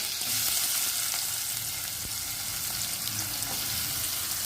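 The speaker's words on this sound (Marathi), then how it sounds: "त्याला थोडं परतून घेऊया आपण कांदा व्यवस्थित परतून झालेला आहे" Onion, asafoetida and curry leaves fry in oil in a pan for a Marathi bottle gourd dish, giving a dense, even sizzle up close that holds steady throughout, with faint stirring and no voices.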